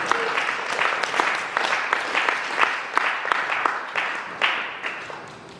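A church congregation applauds, many hands clapping in a dense, steady burst that continues throughout at moderate loudness, with a few voices faint beneath.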